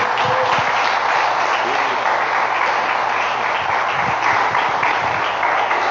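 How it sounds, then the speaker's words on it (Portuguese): A church congregation claps in praise during a worship service, a dense continuous wash of applause at steady loudness for about six seconds, with a low murmur of voices and music beneath it. "E as palmas louvam"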